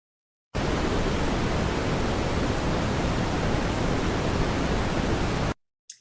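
Steady pink noise, a broadband hiss weighted toward the lows like soft rushing static, runs loud and unbroken for about five seconds, starting and stopping abruptly, with no talk.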